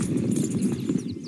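Horse hooves clip-clop steadily at close range in Red Dead Redemption 2, a busy rhythmic patter of steps over a dense low rumble for the whole moment, with no talk.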